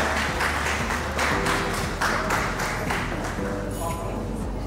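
Audience applause fills an award ceremony hall, steady and dense throughout, with voices mixed into the crowd noise.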